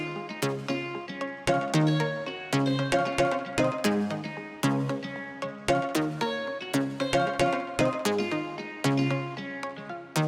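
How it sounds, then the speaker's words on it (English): A steady, strum-like synth pluck pattern repeats in quick rhythmic bursts of bright chords, dense and even in loudness, with no voices. "On top of it, I also have like a type of strumming"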